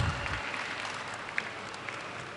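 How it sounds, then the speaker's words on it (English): Audience applause at a startup talk event, faint, even clapping from a crowd heard at a distance for a couple of seconds. "A round of applause, please."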